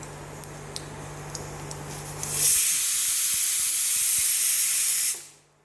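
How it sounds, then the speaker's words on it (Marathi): Mustard seeds spluttering in hot oil for a tempering, a loud close hiss swelling midway with scattered sharp pops and crackles, then fading out at the end. "आता मोहरी चांगली तडतडली की जिरे टाकायचे"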